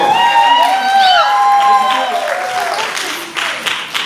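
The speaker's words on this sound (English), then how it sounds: "Y'all clap it up for month 2 dance company" An audience at a Kwanzaa celebration at Malcolm X College claps and cheers in a sustained, lively burst, with voices and tonal sounds ringing over the crowd noise.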